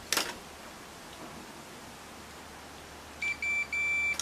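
A multimeter beeps during a continuity check from a ribbon cable connector along a 5-volt supply track on a circuit board: a click, then three short electronic beeps in quick succession, close and clear.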